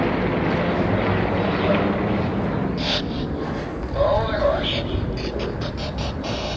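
Roaring engine of a Yak-50 aerobatic display plane overhead at the 2007 Rygge air show, loud and sustained, its pitch shifting as it climbs, with a voice talking over a loudspeaker.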